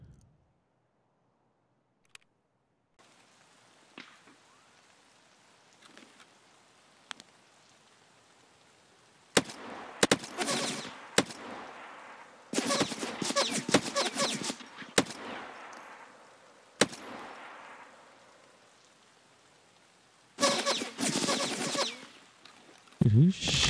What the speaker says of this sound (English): who's shooting at me like that?